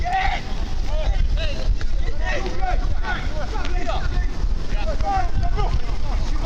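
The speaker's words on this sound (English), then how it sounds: "There's a lovely gust of wind comes over us here at Priory Lane" A gust of wind at Priory Lane football ground, during an Eastbourne Borough v Braintree Town National League South match, roars as a steady, loud, buffeting rush across the microphone while a commentator speaks over it.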